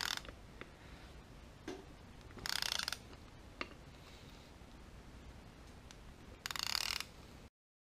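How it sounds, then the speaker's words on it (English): An installation tool ratchets an ATI harmonic balancer onto an LS engine crankshaft, giving a steady run of mechanical clicks and two louder bursts of grinding, ratcheting noise, close up with no talking. "I've got it most of the way on there using the installation tool"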